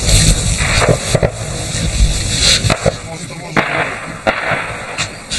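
Repeated sharp cracks and bangs of gunfire at a Ukrainian front line, some close and some distant, in irregular bursts over a constant rumbling background.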